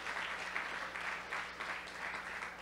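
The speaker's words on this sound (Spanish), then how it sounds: "Puede darle un aplauso a nuestro amado Señor." A church congregation applauds steadily, the clapping swelling and easing in gentle waves, moderately distant with no voices over it.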